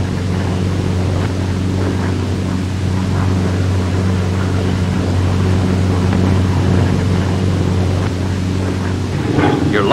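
A Republic P-47 fighter drones through banking maneuvers in flight, its piston engine holding a loud, steady low hum with a strong tonal buzz and wind noise throughout.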